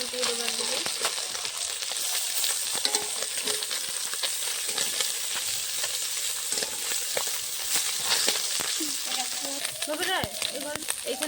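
Small fish sizzle and fry steadily in an oil-filled pan for a sour spinach dish, a dense continuous crackle with occasional stirring clinks close to the pan and no talk.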